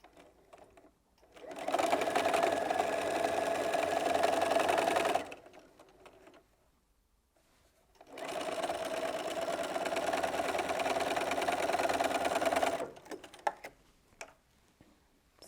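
Sewing machine joining quilt fabric pieces, running in two steady bursts of rapid mechanical stitching, each several seconds long, separated by a short near-silent pause.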